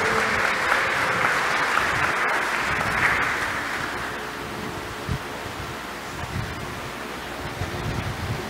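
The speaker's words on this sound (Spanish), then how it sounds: "Les damos un fuerte aplauso" A school graduation audience applauds families of the graduating class: broad, steady clapping that gradually thins and softens, leaving scattered claps and low room noise toward the end.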